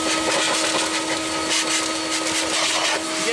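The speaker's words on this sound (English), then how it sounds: "We're gonna vacuum and blow it out first" Loud, steady whine of a vacuum cleaner running continuously while cleaning the interior of a turbo Subaru car, with a constant hum and no pauses.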